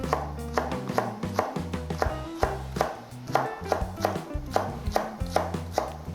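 A knife taps rapidly and evenly on a cutting board chopping green onion, a steady run of crisp chops close up, with soft background music.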